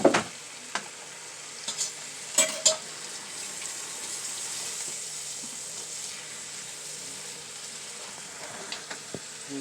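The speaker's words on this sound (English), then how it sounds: "So you can mix that sun-dried tomato around that." Sun-dried tomato stirred in sizzling olive oil sauce for Tuscan chicken, a steady soft frying hiss with a few light scraping and clinking stir sounds, fairly quiet and with no talk.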